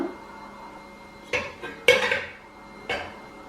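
A metal idli plate set upside down inside a steaming pot, a few distinct metallic clanks and clatters spaced apart over quiet background.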